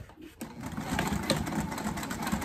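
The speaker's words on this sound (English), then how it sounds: "then top stitch just along the cork side" Sewing machine top stitching along the cork side of a waist pack, a steady fast mechanical whir with a soft rhythmic needle patter, close and moderately quiet, running alone.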